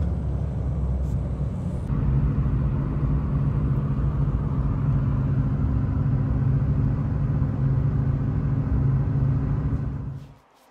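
A Lotus Elite engine running rough, a steady low rumbling drone heard from close by with a slight step up in level early on, then cutting off abruptly near the end; no talking.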